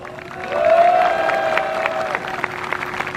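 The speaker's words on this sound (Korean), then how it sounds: "뜨거운 함성과 박수로 화답해 주시기 바랍니다" An audience at a 2019 LG Chem labour union rally answers with steady clapping and cheering, a dense crowd wash that swells and holds under a sustained tone.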